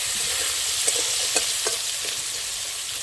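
Live crabs frying in a hot pan give a steady, close sizzle with a few sharp pops and stirring scrapes, and no one speaks.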